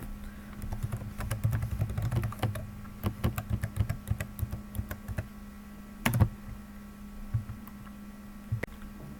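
Someone types login details on a computer keyboard in a quiet room: soft, fairly close key clicks in uneven bursts over a low steady hum, with a louder cluster of keystrokes near the end.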